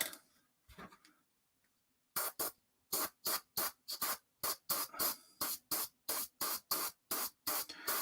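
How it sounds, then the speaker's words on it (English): An airbrush blowing air to dry paint, with no paint in it, giving a steady series of short, sharp hissing puffs in a fast regular rhythm after a near-silent opening. "All I literally am doing is using the air to dry the paint"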